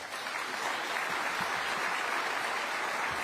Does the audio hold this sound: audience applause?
yes